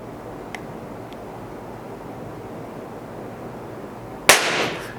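A single sharp crack from an entry-level air rifle carbine firing, arriving near the end after several seconds of steady hiss and faint room noise, close and abrupt with a short decaying tail.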